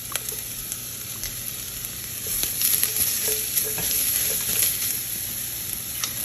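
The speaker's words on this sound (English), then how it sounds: "Okay, followed by adding our onions. Followed by adding our garlic here." Onions and garlic sizzling in a hot Le Creuset pot, a steady crackling fry that grows louder midway, with scattered stirring scrapes and no talking.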